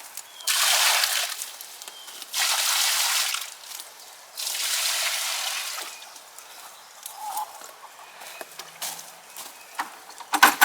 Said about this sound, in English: I'm going to add some of this water, it's still relatively cool, into these